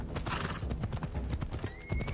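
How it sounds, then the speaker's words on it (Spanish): Horse hooves clip-clop steadily in Assassin's Creed Odyssey, with a whinny and neigh rising near the end, loud and close with dense game ambience. "el coger aquí el caballo"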